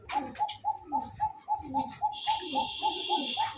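Pigeons at a Bangladeshi pigeon seller's, racer and gola breeds, cooing in a steady run of about a dozen rhythmic, close calls, with faint chirps and a higher hiss layered in toward the end.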